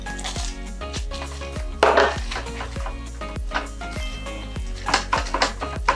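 Ingredients are stirred into hot caramel in a pan while making Florentines, with repeated clacks and scrapes of a utensil against the pan in a busy, uneven rhythm.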